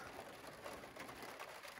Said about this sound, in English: If you can hear that, it's pouring down with rain.